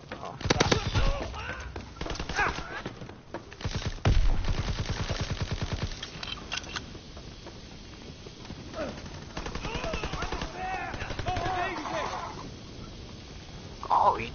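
Pistol gunfire crackles in a video game, sharp rapid bursts of shots clustered early and again later, with voices talking over parts of it.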